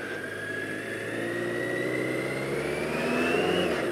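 A 1985 BMW K100 RT motorcycle engine pulls steadily from close by, its whine rising in pitch as it accelerates, with a brief dip around a gear change before climbing again.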